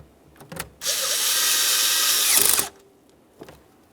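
A power driver spins briefly to snug a T20 Torx screw on a 2007-2017 Jeep Patriot steering column, a close buzzing whir lasting under two seconds, with small clicks and handling noises around it.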